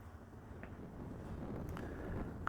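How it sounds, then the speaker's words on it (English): Strong gusting wind roars steadily into an outdoor microphone in a park, a dense low rumble that swells slightly toward the end, with a few faint thin tones above. "that wind is picking up like mad"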